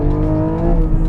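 A mid-engined Porsche with a PDK gearbox revs hard in sport mode, giving a short, loud, snarling burst of engine sound heard up close.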